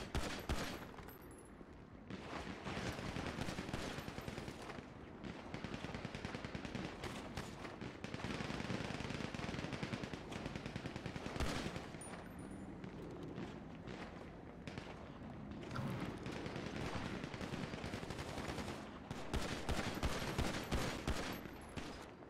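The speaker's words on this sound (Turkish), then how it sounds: "Bana sıkıyorlar şu an." Bursts of rapid gunfire crackle through a police shootout drill in a GTA roleplay game, dense automatic volleys and scattered single shots filling the whole stretch with brief lulls between.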